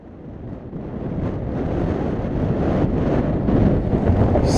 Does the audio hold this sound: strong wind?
yes